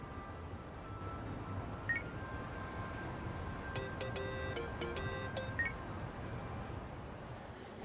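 Faint electronic phone tones sound from a call being placed in the video game Yakuza: Like A Dragon. Short beeps and a brief patterned ringing rise over a quiet background hum.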